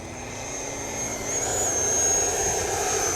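An RC jet with a Viper turbine engine whines steadily during high alpha flight, its pitch rising and holding as throttle is added, loud and sustained without talk.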